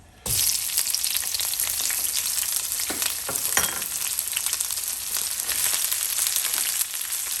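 Onions and leeks sautéing in olive oil in a pan, a steady close sizzle that starts abruptly and continues throughout, with occasional stirring clicks and scrapes.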